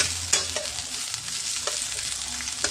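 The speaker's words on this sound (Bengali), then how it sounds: "এটাকে একটু জাস্ট লালচে করে ভেজে নিতে হবে।" Leftover chicken bhuna fries with spices in a pan, a steady close sizzle under repeated scraping stirs of a spoon, several distinct clacks standing out over the continuous hiss.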